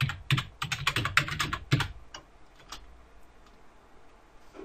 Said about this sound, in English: Head over to the Run menu and type in environment.